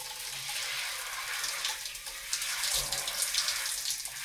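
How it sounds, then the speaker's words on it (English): Shower water running in a bathroom, a continuous bright hiss of spray with gushing surges and splashes partway through, close and steady with no talking. "so I'm going for a shower"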